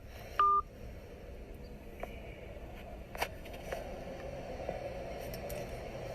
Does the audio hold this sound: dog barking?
no